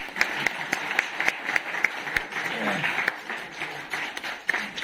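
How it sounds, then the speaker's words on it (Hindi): Audience applause welcoming the Mr. Fresher and Miss Fresher award winners at a college freshers' event, a moderate scattered clapping with sharp individual claps standing out, continuing steadily throughout. "प्लीज आप सभी लोग ऑडियंस में जोरदार तालियों से स्वागत करिए।"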